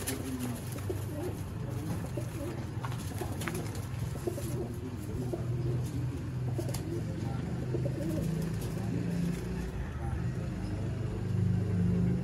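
Golden pigeons cooing steadily amid a busy outdoor scene, with constant low rumble and passing car noise throughout.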